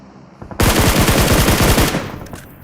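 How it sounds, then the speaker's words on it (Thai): A loud, rapid burst of automatic gunfire in PUBG Mobile erupts and rattles for over a second before cutting off, followed by quieter background noise. "โอ้เสียงปืนลั่นเลย"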